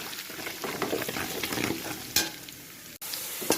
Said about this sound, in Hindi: मसालों को थोड़ा सा भून कर